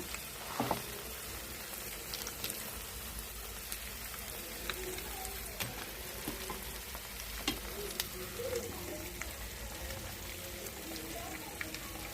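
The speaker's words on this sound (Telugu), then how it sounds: "ఉల్లిపాయ మసాలాలు వేగినాయండి ఇప్పుడు చేప ముక్కలు వేసేసుకుందాము" Fish pieces frying in an onion masala for fish curry give a steady, soft sizzle that runs throughout, with occasional faint clinks of stirring.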